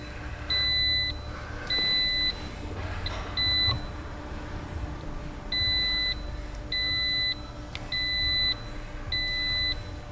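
Repeated electronic beeps from a car dashboard warning as the instrument cluster cycles after a wiring connection is disturbed, a string of evenly spaced clear tones, some in quick pairs, over a low hum.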